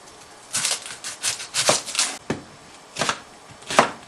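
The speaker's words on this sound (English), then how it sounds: "now we're just going to cut up our onion" A knife chops through an onion on a cutting board in a series of irregular, crisp strikes, close and fairly quiet with short pauses between cuts.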